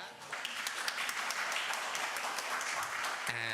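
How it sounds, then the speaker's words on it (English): Sunday service congregation giving a hand clap, steady moderate applause from many people in a hall lasting a few seconds, with a voice briefly heard at the end. "Let's give them a hand clap."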